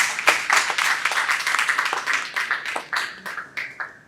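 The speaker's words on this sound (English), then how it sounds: "Ladies and gentlemen, one more warm round of applause for Chelsea." Audience at an autism awareness campaign launch claps in a brisk, uneven burst of applause, close and lively, gradually thinning toward the end.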